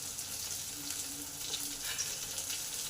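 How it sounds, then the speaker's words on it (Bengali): Lemon-marinated chilli chicken pieces fry in a pan, a soft, steady crackling sizzle heard close and alone for a few seconds. "দু পিঠ এরকম লাল লাল করে ভেজে নিতে হবে।"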